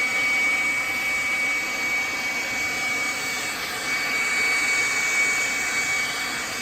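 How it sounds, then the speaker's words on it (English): A gas torch roars steadily and loudly with a broad, even hiss as it heats a steel go-kart fender bracket until it glows red, with no pauses. "We got our torch here."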